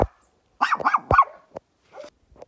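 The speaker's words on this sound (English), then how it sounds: "I'm going to have to go back to some vicious guard dogs." Guard dogs on a Marbella mountainside barking, with a sharp bark at the start and then a close cluster of several loud barks and yips, spaced with short silences.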